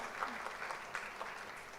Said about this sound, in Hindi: thank you so much Nand